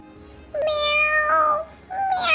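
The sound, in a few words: cat meowing loudly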